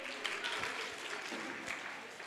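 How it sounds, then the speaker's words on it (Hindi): A crowd at a church worship gathering applauds with a steady wash of clapping, moderately loud and sustained throughout. "जोरदार तालियों के साथ उनका स्वागत करेंगे"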